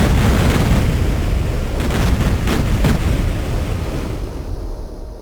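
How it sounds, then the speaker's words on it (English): A continuous roar of explosions in a Duke Nukem shooter level, loud rumbling blasts overlapping in a sustained wash that tapers off toward the end. "it does have a nice set of explosions"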